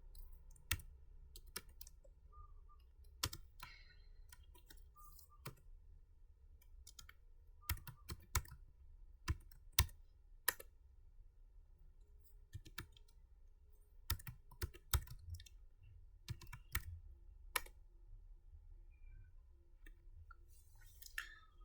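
Keys on a computer keyboard tapped in scattered bursts, crisp close clicks separated by quiet pauses as commands are typed, with no voices.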